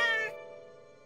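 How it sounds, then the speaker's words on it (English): A cartoon space cat lets out a single bright, high meow that fades quickly, leaving a soft tonal hum beneath it with no speech. "this is my space kitty, Houston"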